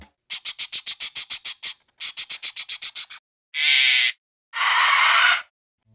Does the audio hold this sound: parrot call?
yes